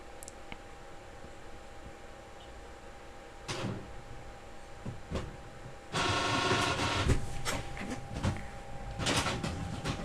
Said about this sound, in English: that is the printer.